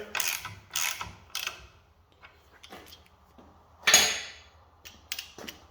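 A ratchet with a 9/16 socket snugs down bolts on a Mopar 361B engine, giving several short bursts of rapid clicking close by, with a louder burst near the end and quiet pauses between strokes.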